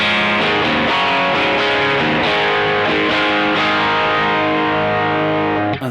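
Electric guitar played through a distortion pedal with a hard-clipping, less mid-pushed character, sounding as a loud sustained run of chords and notes that fills the whole stretch alone before a brief tail.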